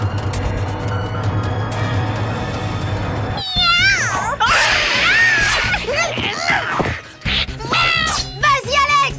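Cartoon cat meowing and caterwauling in loud, wavering yowls after a busy stretch of background sound, the cries repeating in bursts toward the end.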